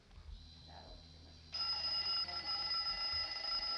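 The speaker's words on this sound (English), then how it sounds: "Oh, look, the little alarm hits between the two bells." A wind-up alarm clock starts ringing partway through, its hammer rattling rapidly between two bells in a loud, continuous metallic jangle that keeps going to the end, following a quieter stretch of room noise.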